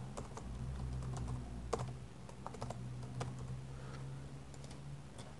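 Fingers type on a computer keyboard, with soft, close key clicks tapping in an uneven rhythm over a low steady hum.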